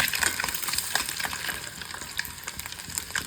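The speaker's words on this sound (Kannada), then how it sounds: "ಅದಕ್ಕೋಸ್ಕರ ಈ ಥರ ಚೆನ್ನಾಗಿ ಫ್ರೈ ಮಾಡ್ಕೊಬೇಕು ಮೊಟ್ಟೆನ" Eggs fry in oil with spices for an egg biryani, giving a steady close sizzle with scattered crackles and pops throughout and no talking.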